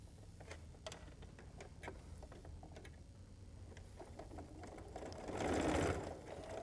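Sewing machine stitching a quarter-inch seam on a quilt block, a steady mechanical whirring and ticking throughout that grows louder and denser in a short burst near the end.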